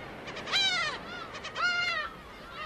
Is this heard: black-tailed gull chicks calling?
yes